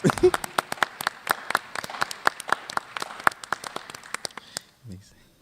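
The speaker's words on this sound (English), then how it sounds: "Give them a round of applause." A small crowd claps in scattered, uneven applause for a few seconds before it tapers off, ending with a brief low sound.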